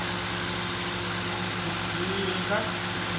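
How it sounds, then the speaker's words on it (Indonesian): A car engine idles roughly with a misfire and no power, giving a steady, close, unbroken drone with a slight flutter and no rise in revs across the few seconds. "mesin ngempos ya, tidak bertenaga, digas dia tidak mau"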